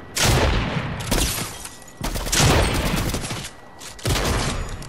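Loud sniper shots in Fortnite, three heavy cracks spaced about a second apart, each followed by a booming tail that echoes out, with no talking.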